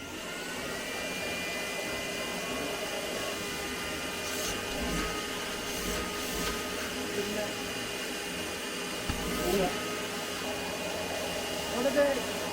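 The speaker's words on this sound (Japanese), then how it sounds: "ちょっと掃除機をかけてみよう。" A vacuum cleaner runs steadily in a CNC router workshop, a constant whining hum at moderate level with a few brief bumps and knocks and no clear talk.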